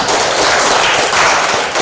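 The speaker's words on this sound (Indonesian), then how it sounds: "Kita kasih tepuk tangan" A classroom group applauds after a presentation, a dense, loud wash of many hands clapping that carries on steadily, with no speech over it.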